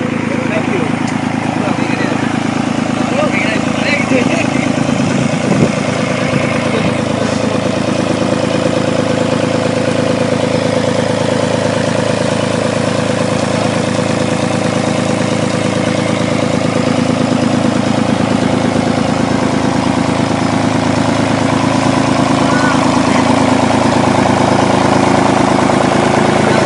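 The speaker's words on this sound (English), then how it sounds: "A Lister diesel engine that's pumping out probably about 150 gallons a minute" A Lister diesel engine drives a water pump at a sapphire mine in Sri Lanka, pumping around 150 gallons a minute, with a steady low drone that stays constant throughout, mixed with outdoor ambience.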